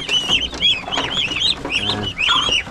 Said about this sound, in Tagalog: Sisiw ng manok. Dito sisiw ng pato.